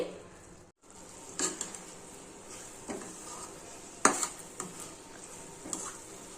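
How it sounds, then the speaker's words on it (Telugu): Grated coconut with milk, sugar and ghee frying in a pan, a soft steady sizzle with occasional scraping and clinks of a spoon stirring against the metal. "ఒకటి పాలు ఒకటి చక్కెర మూడు కొబ్బెర మూడు స్పూన్లు నెయ్యి అండి అన్నీ వేసుకొని వేయించుకోవాలండి"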